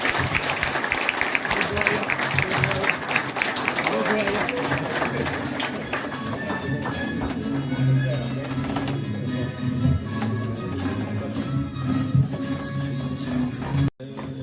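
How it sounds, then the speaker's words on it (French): Audience applause at a business school graduation ceremony in Paris, sustained clapping across the hall for about fourteen seconds, with music-like tones and voices beneath it, thinning toward the end. "Donc, je vous remercierai d'applaudir Monsieur Betriat."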